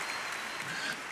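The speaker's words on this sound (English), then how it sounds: "round of applause for Carl" Audience applause in a round for a man named Carl, a dense, steady wash of many hands clapping that holds at an even level throughout with no one talking over it.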